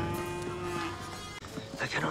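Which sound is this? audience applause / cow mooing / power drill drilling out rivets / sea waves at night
cow mooing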